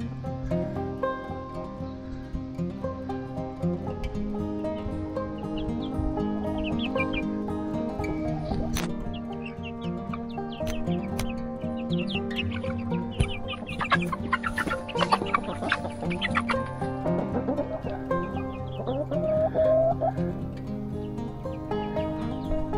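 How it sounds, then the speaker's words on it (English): A large flock of chickens in a coop clucks continuously, with many overlapping soft calls and occasional sharper squawks over a busy, moderately faint background. "We got a ton of chickens in here."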